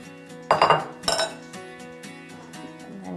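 A spatula clinks and scrapes twice against a big bowl while dough is mixed, two short bright knocks close by, followed by quieter stirring with music underneath.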